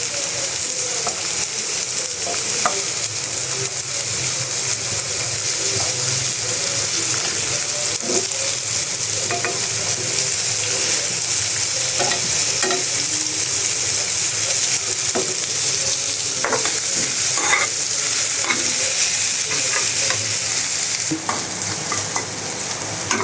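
Dried lotia fish and jackfruit seeds frying in a pan, stirred continuously: a steady close sizzle with irregular utensil scrapes and clatters running the whole length.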